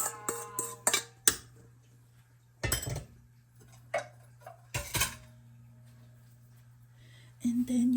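Tomato jam being scraped and stirred in a pot, sparse sharp clinks of a utensil against the pot's side separated by quiet gaps, with a steady low hum running underneath.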